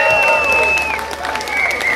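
Concert crowd applauding and cheering for a blues band, steady clapping with whistles and crowd noise at full level throughout, a sustained tone running through parts of it.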